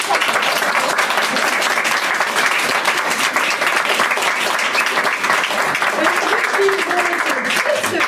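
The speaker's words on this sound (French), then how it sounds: "vous pouvez les applaudir bien fort." An audience in Aix-en-Provence applauds performers at an evening show, loud dense clapping that stays steady and sustained with faint crowd voices beneath.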